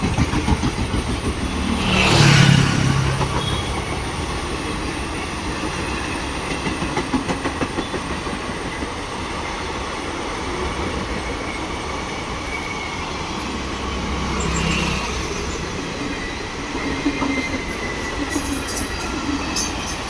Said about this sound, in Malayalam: അടുത്ത ട്രെയിൻ വന്നു.